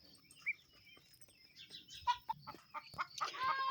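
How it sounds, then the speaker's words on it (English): A homestead hen clucks after laying an egg, a run of short, irregular clucks building in loudness and rising toward a squawking cackle near the end, fairly close, with faint background sounds and no talk. "it looks like that we have one of our hens that just laid"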